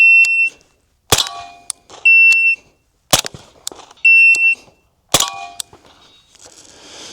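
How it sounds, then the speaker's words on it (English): Three sharp, loud suppressed gunshots from a SIG Rattler LT firing subsonic 300 Blackout through a SilencerCo Omega 300 ring out about two seconds apart, each a crack followed by a short echo, with steady electronic beeps in between. "I do have the silencerco Omega 300 on here, and we're gonna be shooting just subs today"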